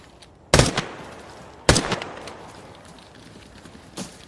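Two sharp distant gunshot cracks ring out in the online shooter Arena Breakout: Infinite, about a second apart, each trailing off into a fading echo, with a fainter third report near the end.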